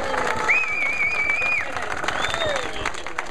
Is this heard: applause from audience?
yes